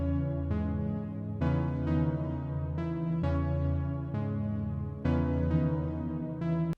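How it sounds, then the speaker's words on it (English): A dark melody in FL Studio plays with a halftime effect, slowed chords struck every second or so with a deep, murky tone, steady and close with no voices. "Next, we gotta throw in the classic halftime."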